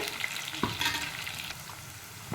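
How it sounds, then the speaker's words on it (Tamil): Onions sauté in a clay pot as the base for a sankara fish curry, giving a close, steady sizzle broken by a few stirring scrapes and clinks. "வெங்காயம் நல்லா வதங்கிட்டுருக்கு."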